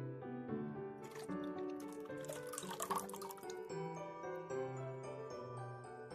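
Water poured into a deep bowl already holding olive oil while making unleavened bread dough, a steady close liquid trickle and splash lasting several seconds with no talk.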